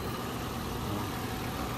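A Toyota FJ Cruiser engine idling steadily at close range, a continuous low rumble with no voices.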